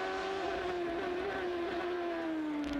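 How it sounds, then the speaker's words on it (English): Onboard engine note of a 2003 Champ Car at the London Champ Car Trophy, a loud, steady high-pitched whine that drifts slightly down in pitch, continuous throughout. "On board with Darren Manning."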